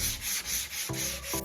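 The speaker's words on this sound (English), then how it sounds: "I started out by gently sanding it with 120 grit sandpaper" Sandpaper rubs back and forth over a surface in quick, even strokes, a close, dry scratching hiss.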